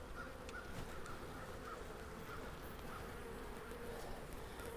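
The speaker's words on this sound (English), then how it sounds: "Let me get that bee out of that Velcro." A bee buzzing close by during a beehive inspection while snagged in Velcro, its thin whine steady under a dense outdoor hum, with faint bird calls in the background.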